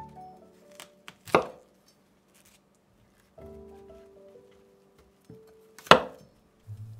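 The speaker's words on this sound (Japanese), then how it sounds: "ブロッコリーは水洗いし小房に分けます。" Knife cutting broccoli into small florets on a board, two sharp isolated chops several seconds apart amid faint kitchen clinks and soft background music.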